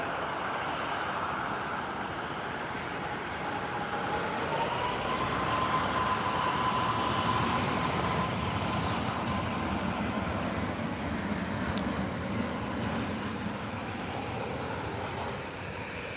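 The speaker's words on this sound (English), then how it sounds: "Your KLM 737 from Amsterdam." A KLM Boeing 737 airliner from Amsterdam at Birmingham airport gives off a steady, distant jet roar that holds for the whole stretch, with a faint rising tone and no voices.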